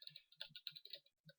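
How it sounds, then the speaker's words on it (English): Quick, irregular clicks of keys being typed on a computer keyboard, close and fairly quiet, arriving in short bursts with small gaps and no talking. "Need to get a quieter keyboard."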